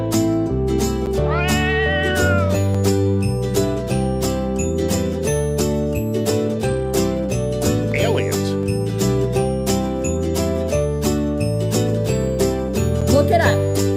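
A cat meows repeatedly over a continuous bed of loud music, the cries rising and falling between steady tonal accompaniment.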